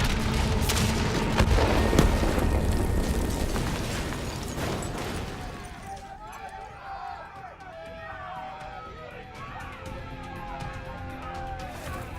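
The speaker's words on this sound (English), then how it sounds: "Detonate now!" An explosion detonates in the Call of Duty Black Ops III video game, a loud, heavy rumbling blast filling the first few seconds and slowly fading into quieter game sounds with voices.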